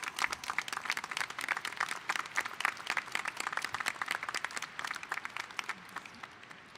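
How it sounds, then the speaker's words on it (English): Applause from a university commencement audience, a dense, steady wash of many hands clapping that carries on for several seconds and eases slightly toward the end. "Let's give them all a round of applause."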